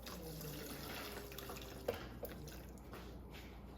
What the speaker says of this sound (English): We're gonna add a little bit more water, okay?